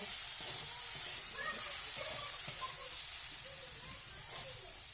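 Chicken with turmeric being stirred in a frying pan, a steady soft sizzle of frying under faint scraping and stirring sounds, close and fairly quiet throughout.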